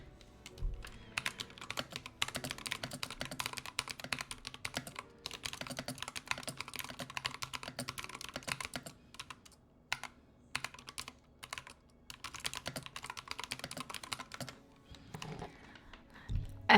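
Typing on an 80HE mechanical keyboard with clicky switches: close, rapid, continuous key clatter with dense irregular strokes, heard alone and tapering into sparser presses near the end.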